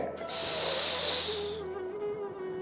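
A single long, loud hissing inhalation drawn through clenched teeth in Sadanta yoga breathing, close and harsh for over a second, then a quieter breathy tail.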